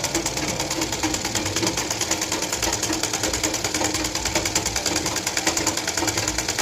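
Sewing machine stitching a blouse lining, running continuously with a fast, even rattling rhythm, close and loud, alone without talk.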